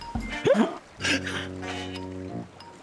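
Dog in the pirate video game Sea of Thieves giving a whimpering yip followed by a longer tonal whine, close and clear, with a bit of voice chatter around it.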